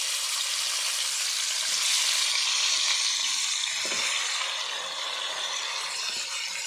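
Chicken pieces sizzle steadily in a hot pan with spices while being prepared for chicken malai, a continuous loud frying hiss with faint stirring and no voices.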